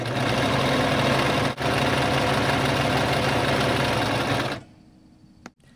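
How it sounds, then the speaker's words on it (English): A sewing machine stitches around the pinned top opening of a fabric shopping bag, lining and straps included, a steady loud mechanical whir with a brief pause, then it stops near the end, leaving a quiet room and a small click. "Now what you're going to do is sew around here where you have the pins around the top opening of your bag"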